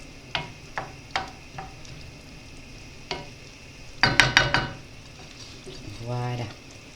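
Onions sizzle in a pan as wine vinegar cooks off, with sharp utensil clicks and scrapes against the pan over a soft, steady frying hiss.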